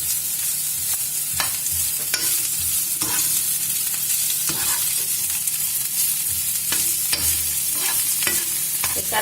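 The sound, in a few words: vegetarian gluten steak browning in a frying pan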